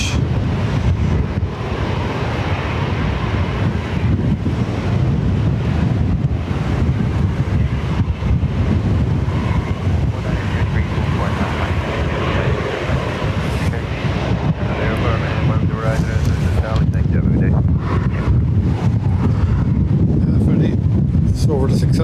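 Wind gusting at Dublin Airport, buffeting the microphone with a constant low rumbling roar and irregular thumps, with someone talking intermittently underneath.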